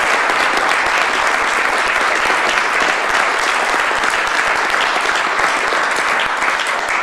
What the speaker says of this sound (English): Yeah, you better clap.